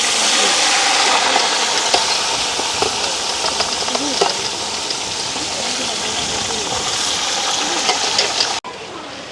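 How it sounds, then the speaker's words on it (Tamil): Meat frying in a pan, a loud steady crackling sizzle running almost throughout with brief stirring scrapes, cutting off sharply near the end. "அடுத்தது இஞ்சால இறைச்சி பொரிக்க போகிறோம்"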